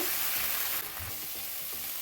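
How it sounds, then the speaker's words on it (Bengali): Tomato paste frying on medium heat in a pan gives a loud, steady sizzle close by, with faint stirring scrapes underneath and no talking. "আর দিয়ে দেব টমেটো পেস্ট। মিডিয়াম আঁচে আমি হালকা করে ভেজে নেব।"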